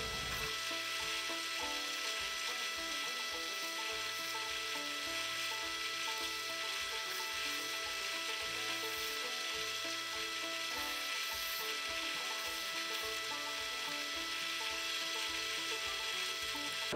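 Step drill bit boring quarter-inch holes through a Kydex sheath blank for a small EDC knife, a steady close grinding and whirring hum with a faint ratcheting texture running throughout, no talking.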